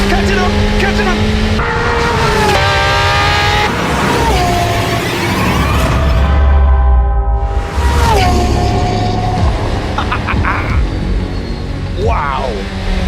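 Chevrolet Corvette ZR1 race engine roaring loud and near through the whole stretch, pitch climbing through gears with a brief drop in between, while people shout excitedly over it.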